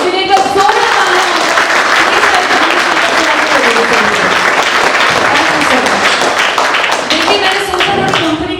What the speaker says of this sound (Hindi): इन्हें एक जोरदार तालियां।